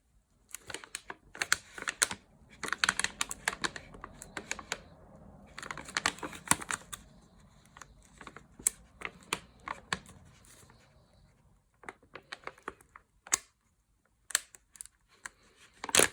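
Tough plastic Ziploc bag being tugged and torn open, a string of close, sharp crinkling crackles and snaps in uneven bursts with brief pauses, no talking.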